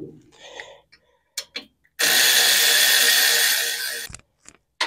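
Wrench or ratchet backing out bolts from the fan on a Pontiac engine, with scattered short clicks and metallic taps followed by a loud, sustained two-second burst of mechanical noise, then a few more sharp clicks.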